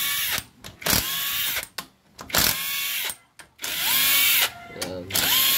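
Bursts of a cordless impact tool spinning out bolts from a Kawasaki NS 150 motorcycle engine during a clutch lining change, several loud whirring runs with short gaps between, close up.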